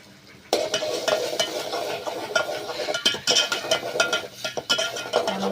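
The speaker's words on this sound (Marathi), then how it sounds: "चांगला मसाला परतून द्यायचा, असा घ्यायचा पुरा काढून परतून द्यायचा चांगला." Bitter gourd sabzi is stir-fried with masala in a pan over a wood-fired village stove. A spoon scrapes and stirs in steady strokes over a constant close sizzle, with occasional clinks against the pan.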